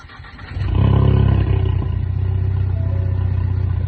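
A Ford Mustang S550 with an EcoBoost engine cranks and catches, then settles into a loud, steady idle with a rough, throaty rumble close by.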